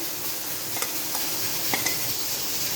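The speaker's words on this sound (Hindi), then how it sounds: "और सूजी को अच्छे से मिक्स कर लेती हूँ" Fried semolina stirred into pumpkin halwa in a pan, a soft steady background hiss with a few faint utensil scrapes and taps, quiet and without talking.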